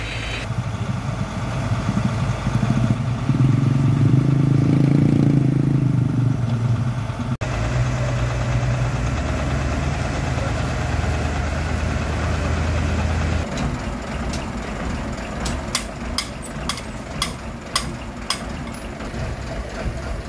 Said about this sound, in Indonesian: si Hino Jember Euro 4 mau dorong si Pusoren bosku ya